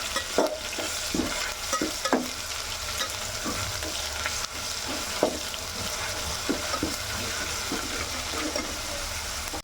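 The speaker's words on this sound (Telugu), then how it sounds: "ఈ అల్లం వెల్లుల్లి పేస్ట్ పచ్చివాసన పోయే వరకు మనం దీన్ని కూడా ఫ్రై చేసుకోవాలి." Ginger garlic paste fries in a pan with a constant close sizzle, broken by frequent clacks and scrapes of a spoon stirring, and no voices.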